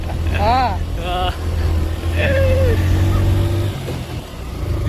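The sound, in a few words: motorcycle engine in first gear on mountain road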